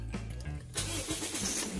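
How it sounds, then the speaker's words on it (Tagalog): A car engine cranks briefly and then catches, settling into a steady running roar, heard up close. "start na natin yung makina."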